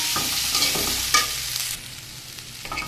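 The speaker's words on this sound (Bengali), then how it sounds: "সবজিটা কিন্তু নেড়ে চেড়ে বেশ ভালোভাবে আমি কষিয়ে নিয়েছি" Vegetables stirred and fried in oil in a pan for a vegetarian dish, with a steady close sizzle broken by a few louder scraping stirs and no voices.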